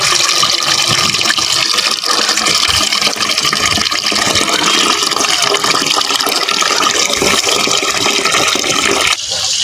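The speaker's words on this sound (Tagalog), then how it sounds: "Okay, maglagay lang tayo ng tubig," Water gushes steadily into a cooking pot, loud and close, as a continuous rushing fill. It cuts off abruptly just before the end.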